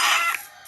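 A single short, bright chicken cluck from a crafting video game, loud and alone, cutting off quickly.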